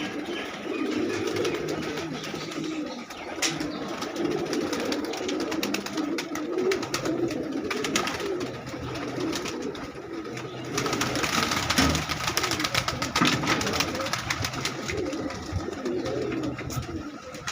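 Pet pigeons in a netted loft keep up a steady, layered cooing for the whole stretch, fairly close and even in loudness.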